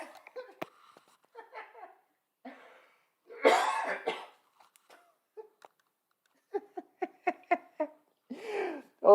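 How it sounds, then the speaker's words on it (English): Several bursts of coughing and throat clearing from someone with a cold, scattered between short pauses and a little quiet talk, close by, with a cluster of quick hacking coughs near the end. "I've been needing to cough up all day"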